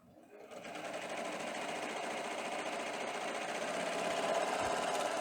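A Baby Lock serger stitches a seam, its motor starting up and settling into a fast, even mechanical whir that holds steady and fairly quiet for several seconds.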